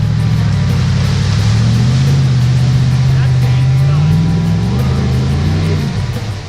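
A truck churns along a muddy trail through puddles, its engine a loud, low, steady drone that rises and falls slightly, then fades near the end.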